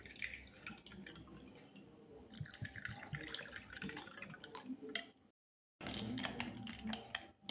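Cold water pours into a vessel while making aam panna, a continuous splashing trickle that cuts off briefly before resuming; no one talks.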